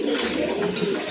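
Red pigeons coo in a loose, low, throaty murmur, close and continuous, with soft background noise and no clear talking.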